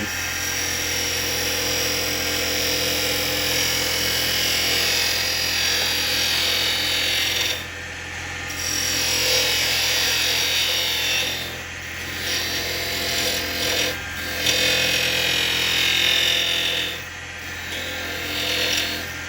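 A carbide chisel cuts a tenon on a small firewood bowl spinning on a lathe, giving a steady, bright scraping hiss over the motor's hum that dips briefly a few times.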